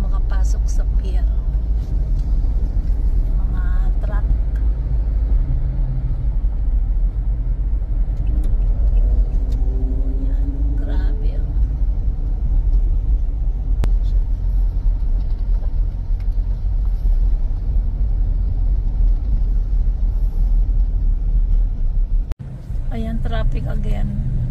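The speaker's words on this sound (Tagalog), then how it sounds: "Traffic again." Steady heavy road traffic near Mall of Asia by the bay at night, with cars and motorbikes rumbling continuously close by, a low engine drone throughout and occasional passing vehicles, under intermittent talk.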